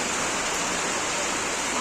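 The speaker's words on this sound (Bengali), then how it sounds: "হেভি জোর বৃষ্টি" Heavy, steady downpour roars as a dense, even wash of noise, loud and continuous throughout with no break.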